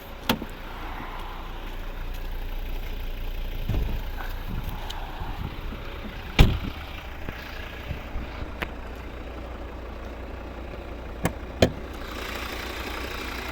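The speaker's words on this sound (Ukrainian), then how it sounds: "Ось знаменитий двохлітровий п'ятициліндровий двигун." A 2013 Volvo V60 two-litre five-cylinder D4 diesel engine idles steadily at close range, a low continuous rumble broken by a few sharp clicks and knocks.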